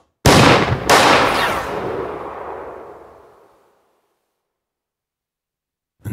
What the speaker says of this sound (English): 2 shots rang out